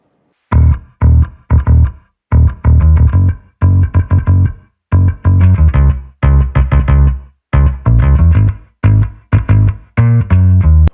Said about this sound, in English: For the bass I've used Trillion library from the Omnisphere.